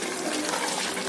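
Water pours steadily into a pot of soaked, washed rice for mutton biryani, a continuous close rushing splash with no pauses.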